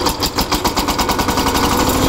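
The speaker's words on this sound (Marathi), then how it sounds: "आता आपण ट्रॅक्टर चालू करू।" A Kirloskar 15 hp power tiller engine coughs into life and settles into a close, loud, rapid chugging beat, with no voices over it.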